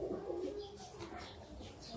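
Soft, low cooing of Sialkoti pigeons close by, a throaty murmuring call over faint background noise.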